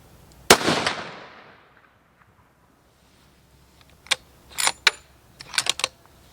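A Browning X-Bolt rifle in .300 Win fires one loud, close shot outdoors at a 100-yard range, followed by a fading echo, then several clicks and rattles of handling.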